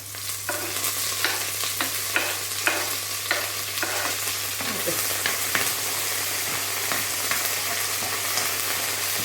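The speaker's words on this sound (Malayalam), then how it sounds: "ഒരു രണ്ട് പച്ചമുളക് ചെറുതായിട്ട് അരിഞ്ഞു വെച്ചിട്ടുണ്ട് അതും കൂടെ ഇടുക കുറച്ച് കറിവേപ്പിലയും കൂടി ഇടുക" Chopped green chilies and curry leaves sizzle in hot oil for pickle-making: a steady, close frying hiss with repeated spoon-scraping stirs and scattered pops, no voices.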